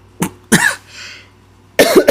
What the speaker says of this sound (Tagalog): excuse me, yung ubo ko talaga